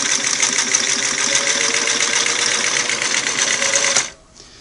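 A Singer Model 347 sewing machine runs steadily and loudly while stitching through several layers of fabric, its fast rhythmic clatter continuing alone before stopping abruptly near the end.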